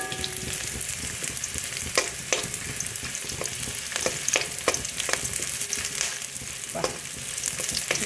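Onions and whole spices fry in a pan for a chicken dish, giving a continuous close sizzle with repeated clicks and scrapes of stirring throughout.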